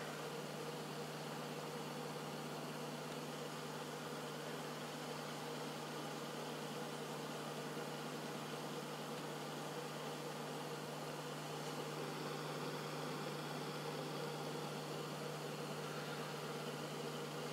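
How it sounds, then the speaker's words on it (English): Pulse motor with a hybrid coil running on a bench, a steady smooth electrical hum and whir with a constant low tone, fairly quiet and unchanging throughout. "the motor runs fairly smooth"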